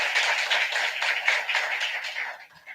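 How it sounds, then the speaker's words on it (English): Audience applause at a memorial mass, a steady, dense wash of many hands clapping together for a couple of seconds before fading out. "You can also clap."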